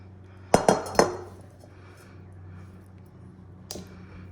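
Pickles mixed with cherries, onions, cloves and jalapenos in a dish, giving three quick clinking knocks of utensil against dish close together near the start, then a quiet pause and one lighter clink near the end.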